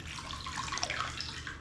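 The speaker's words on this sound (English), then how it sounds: "Lovely, warm water stimulating your back" Warm water runs and splashes gently over a three-week-old baby's back, a soft, faint continuous trickle with light splashy flickers and no talking.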